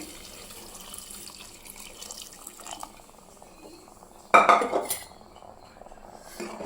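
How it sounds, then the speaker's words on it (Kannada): Hot water is poured into moong dal and rice pongal, giving a short splashing gush after soft kitchen clinks and clatter. "ಸ್ವಲ್ಪ ಬಿಸಿ ನೀರು ಹಾಕ್ತಾ ಇದ್ದೀನಿ"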